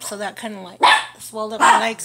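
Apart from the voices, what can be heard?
dogs barking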